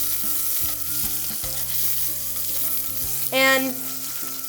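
A salmon fillet fries in a pan with steady close sizzling and stirring noises, a brief clatter as it is turned, and a short word spoken near the start.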